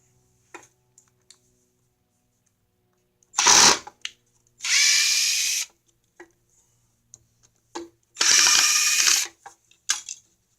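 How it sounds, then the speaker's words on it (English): Tools unmount a faceplate in a woodworking shop: two bursts of ratcheting and mechanical clicking, each lasting under a second, with sparse small knocks and clicks between them, close and fairly loud, no talk. "So to do that, I'm going to unmount the faceplate."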